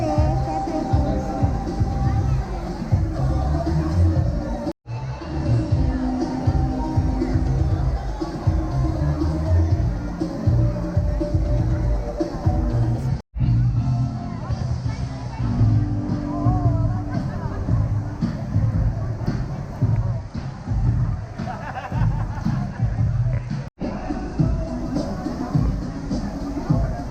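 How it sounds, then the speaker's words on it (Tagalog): A busy crowd murmurs aboard the Norwegian Encore cruise ship, a continuous babble of many voices with a nearer voice speaking over it, fairly loud throughout, broken by a few brief dropouts. "So, ganito ka-crowd ngayon."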